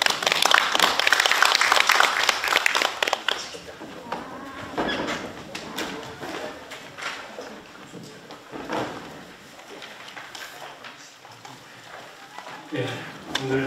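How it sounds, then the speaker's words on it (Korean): Audience at a Korean unification forum applauding for presenters, a burst of dense clapping that tapers into scattered claps, with a voice speaking over it. "여러분 힘찬 박수 한번 다시 부탁드리겠습니다."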